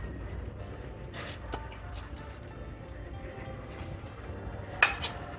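Spoon scraping and clinking against dishes in scattered bursts as tilkut, an Indian sesame sweet, is spooned from a jar onto a plate, with one sharper clink of metal on a plate near the end.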